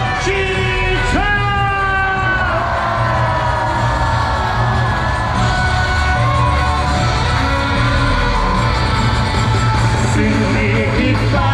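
A large candlelight protest crowd on a city street yells, whoops and cheers continuously and loudly, voices blending into a dense roar with chanting and shouts rising throughout, calling for impeachment.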